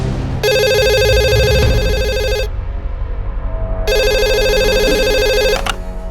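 A phone rings at a surgical instruments dealer in Mumbai: two long electronic ring bursts, loud and close, separated by a short pause, with no one talking.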